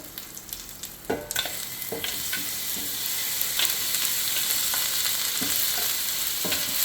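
Shrimp fry in butter in a pan. A few utensil clicks and stirring scrapes come first, then the sizzle builds into a dense, continuous crackle.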